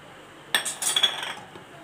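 A spoon stirs chana batter with cornflour in a bowl, giving one short burst of clinking and scraping that fades quickly, close by and quiet.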